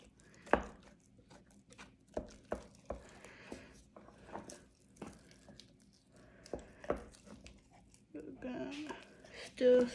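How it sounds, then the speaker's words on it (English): Sourdough starter is stirred in a jar, a utensil knocking and scraping against the glass in a series of sharp, irregular taps, with a voice speaking at the end. "So we're gonna take this and we're gonna stir."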